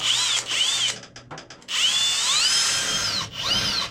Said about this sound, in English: Drill it out here.